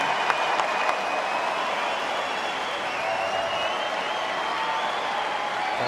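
Australian Open tennis crowd applauding and cheering at night, a dense, sustained roar of clapping and voices filling a large arena with no gaps.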